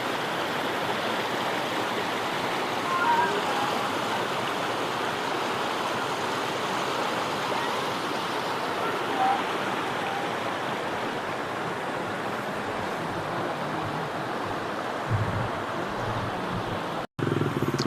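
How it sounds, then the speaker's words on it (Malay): A river flows steadily past at close range, a broad continuous wash of rushing water that holds level throughout with no voices and only faint rumbles from beneath. "Sebelum tu kau tengok dulu pemandangan sungai kat sini ya."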